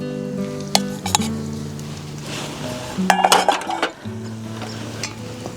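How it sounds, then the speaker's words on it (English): Grated cassava toasting in a pan, heard as sharp metal clinks and scrapes of a utensil against the pan, with a steady tonal background running throughout. "Going to pop our grated cassava in. Just get that toasted."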